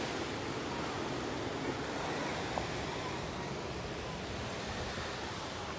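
Ocean waves break against the base of a cliff as the tide comes in, making a steady, full wash of surf with some wind noise and no voices.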